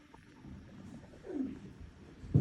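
An owl perched on a windowsill gives a soft, low hooting call, faint and brief against a muffled background hum.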